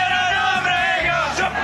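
Students at schools chant slogans together in support of a politician, a dense crowd of raised voices with shouted, yell-like peaks running steadily through the whole short moment.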